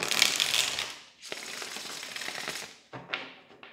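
Tarot cards are shuffled in brisk, rattling riffle bursts, with a short pause in between, close and fairly loud with no talking.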